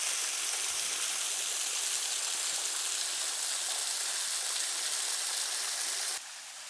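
A waterfall near a cave in Santiago de Chiquitos, Bolivia, pours with a loud, steady, hissing rush of falling water that drops slightly in level at the very end.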